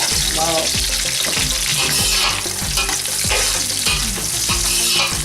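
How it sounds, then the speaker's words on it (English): Potatoes and onions browning in a hot pan give a loud, constant sizzle while a spoon stirs and scrapes in repeated strokes, up close and without talk, with a low rhythmic backing of music throughout. "potato and onions are cooking together, and you have to keep on cooking until it's nice and brown"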